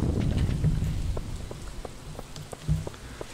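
Rain in the Stardew Valley video game falls as a steady patter with scattered distinct drops and a low rumble underneath. No voices are heard.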